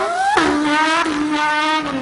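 A person's voice imitates a car engine, rising in pitch like revving and shifting gears, a loud continuous drone close to the mic.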